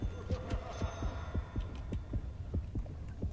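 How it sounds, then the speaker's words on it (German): A rapid, steady heartbeat from the underwater shark game Depth thumps about a dozen times in a row, close and evenly paced over a low hum. "das Herzklopfen wird stärker oder wird das schwächer?"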